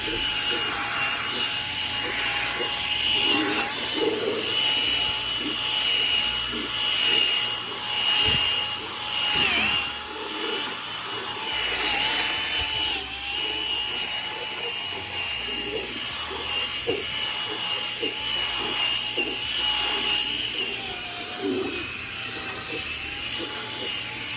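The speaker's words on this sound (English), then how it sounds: "I'll go ahead and I'll use the drill brush to work it in." A continuous whirring motor with a rhythmic scrubbing, brushing texture from a drill brush working over a racing cockpit seat, loud and close throughout.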